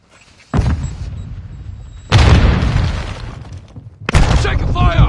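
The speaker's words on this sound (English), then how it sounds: "Grenade out." Three heavy booms of a grenade blast land in sequence, each a sudden loud burst with a rumbling tail, the last followed by a brief voice.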